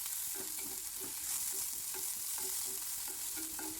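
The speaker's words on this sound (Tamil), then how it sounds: "சேர்த்து வெங்காயத்தை நல்லா கிளறி விட்டுடலாம்" Onions fry in oil in a pan for a potato masala, with a close, constant sizzle and rhythmic scraping strokes from a spoon stirring them.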